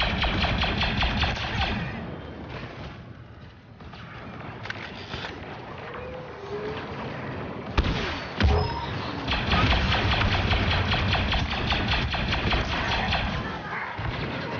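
A motorbike engine in a video game drones and revs steadily beneath continuous game noise and a player talking.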